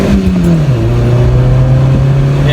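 A 2015 Mini Cooper compact car's small, low-displacement engine revs high in a steady, loud drone, the pitch dipping slightly then holding as it pulls, with no talking over it.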